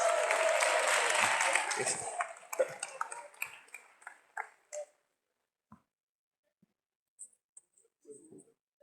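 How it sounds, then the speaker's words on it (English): Audience clapping at a school district event in Richland One is fairly strong for about two seconds, then breaks into scattered individual claps that fade to near silence, with a few faint stray sounds later. "Give her a big round of applause."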